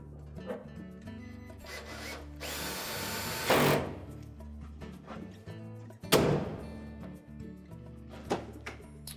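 A power drill whirs in short bursts, driving machine screws into an LG dryer during a drive motor replacement. Clatter and handling noises sit between the runs, and two louder whirring spells stand out near the middle.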